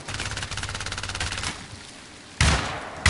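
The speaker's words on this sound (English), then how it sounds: "Fire, you stupid piece of crap gun." Rapid automatic gunfire from the video game Syndicate rattles in a steady burst, then pauses before two heavier blasts.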